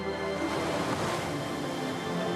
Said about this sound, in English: This is a wave.